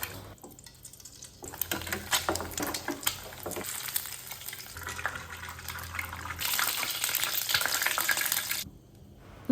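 Six eggs frying in a pan, a steady loud sizzle and spatter throughout with occasional stirring, no voices.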